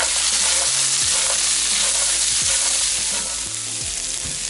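German-style fried potatoes, seasoned with salt and black pepper, sizzle steadily in a hot pan while being stirred, with scraping and clinking of the utensil against the pan over a continuous loud fry.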